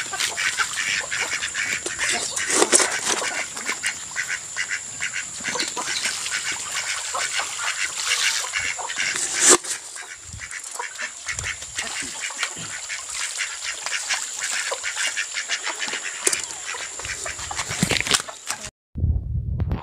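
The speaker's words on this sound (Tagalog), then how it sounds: "Alagang itik mga ka-farmer." A flock of native ducks quacks continuously on a farm, a dense, busy chorus of overlapping calls close by, with a few brief knocks and an abrupt end.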